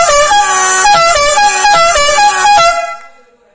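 Musical horn kit on a car, driven by an air compressor and set off by remote, blares a loud run of quick melodic honks close by, then fades out, with no talking.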